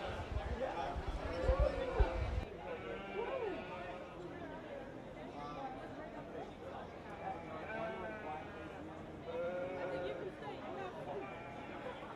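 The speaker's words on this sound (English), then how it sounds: "Entering the ring now is our purebred ewe Hampshire sheep." Purebred Hampshire ewes bleat several times at a sheep show ring, the calls coming under steady crowd chatter and talk.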